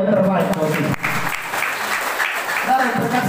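Church congregation clapping together during a sermon, a steady broadband patter of applause mixed with a voice speaking over it at close range.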